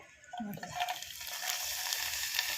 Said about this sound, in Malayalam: എന്നിട്ടത് വറുത്തെടുക്കാം എണ്ണ തിളച്ചിട്ട്